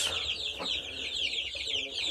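Newly hatched chicks peep in a continuous high chorus of rapid cheeps, close and fairly loud, with a faint voice briefly underneath.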